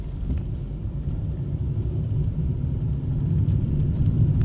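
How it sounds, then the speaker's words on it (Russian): A car accelerating on a city street during a driving lesson, a low engine rumble from inside the cabin that builds steadily louder over a few seconds, with no talking. "Разгоняем автомобиль."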